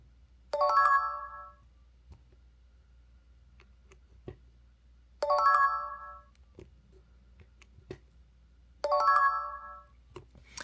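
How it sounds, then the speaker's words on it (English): A Samsung Galaxy Z Fold 6 running One UI 7 beta plays its charging chime three times, each a bright harmonic ringtone-like burst at regular intervals, with small ticks and near-silence between. "let me show you guys the charging sound"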